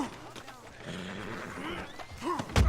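A horse in the Red Dead Redemption 2 video game snorts and whinnies briefly near the end, loud and close, after a stretch of someone talking over faint hoof clatter.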